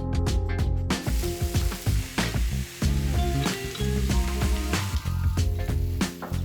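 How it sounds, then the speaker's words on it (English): Steady close sizzling of chicken wings frying in a hot Ooni Grizzler pan, with crackles and soft clinks over a faint musical background. "add those tasty wings and hear them sizzle"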